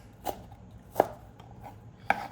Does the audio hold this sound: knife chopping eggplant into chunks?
yes